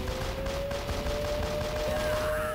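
Dense, continuous gunfire in Call of Duty on the Nintendo DS, rapid rattling shots filling the whole moment with a steady tonal hum underneath.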